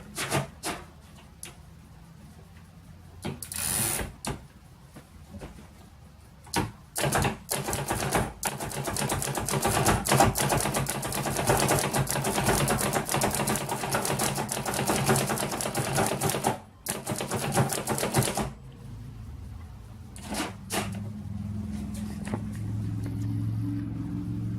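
Hammond No. 2 typewriter from the 1890s–1900s typing, a run of rapid mechanical clacks in irregular bursts with brief pauses between.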